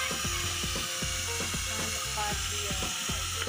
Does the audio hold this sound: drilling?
yes